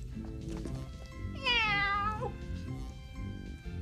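A person imitates a cat's meow, a single drawn-out, falling cry rising above low background noise and music.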